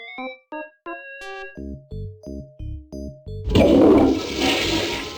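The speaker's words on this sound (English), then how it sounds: "You really flushed them." A cartoonish toilet flush from the video game Day of the Tentacle follows a run of short stepped musical tones, then bursts into a loud, gushing roar of water that keeps swirling until the end.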